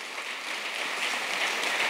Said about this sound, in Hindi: जोरदार तालियां ललित भारद्वाज जी के लिए